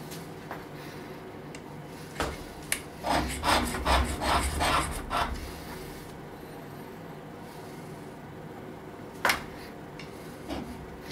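Hand scraping a metal part roughly flat: a series of close, rasping scrape strokes in quick succession, clustered in the middle with a few isolated strokes before and after, in an otherwise quiet workshop with no talking.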